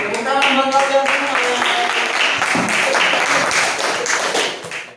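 Schoolchildren clapping together in a classroom, a dense, lively round of applause lasting several seconds with voices mixed in, close and loud, fading out at the end.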